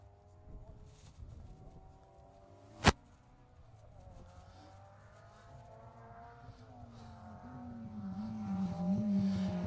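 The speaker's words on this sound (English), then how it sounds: "we're seeing quite a few cars come through the end of the stage here together" Rally cars at the end of an asphalt stage in the Cheviot Stages, a Mark II among them, engines droning and rising as several approach together, with one sharp loud bang partway through and the noise growing toward the end.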